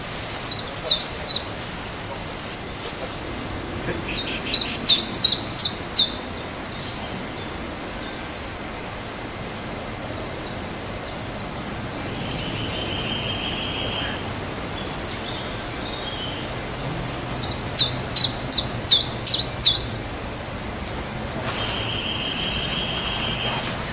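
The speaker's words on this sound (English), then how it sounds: "The birds are still singing in Explosia." Birds call outdoors in two clear bursts of rapid, high, repeated chirps over a steady background hiss, with a faint crackle and crickets underneath.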